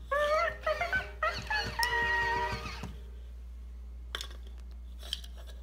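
A toy dog gives a series of high, wavering whimpers and yelps close by, stopping after a few seconds, followed by faint clicks and light handling noise in a quiet room.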